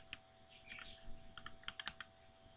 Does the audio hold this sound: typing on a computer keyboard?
yes